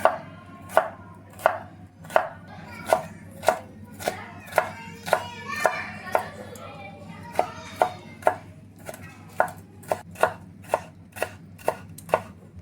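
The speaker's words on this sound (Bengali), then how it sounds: "তো ক্যাপসিকামটা কিন্তু একদম ছোট ছোট করে কুচি করে নেব।" A knife chops capsicum finely on a board, about twenty crisp, evenly spaced thuds in a steady rhythm, close and clear over a low background hum, with no talking.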